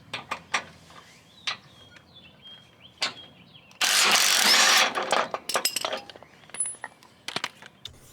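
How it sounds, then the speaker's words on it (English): An impact wrench loosens a bolt on a Cub Cadet riding mower deck, delivering a loud rattling burst of about one second amid scattered metallic clicks and clanks. "I'm going to use my impact just to make it a little bit faster."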